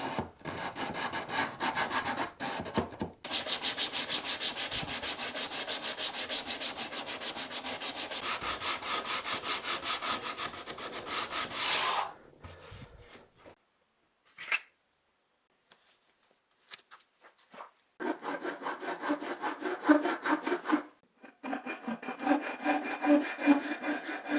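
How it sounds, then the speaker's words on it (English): Steady rasping strokes of sandpaper on a wooden Telecaster guitar neck, sanded by hand, loud and close, run in long bursts with a few quiet pauses between them. "I'm not going to go too overboard with the sanding at this stage"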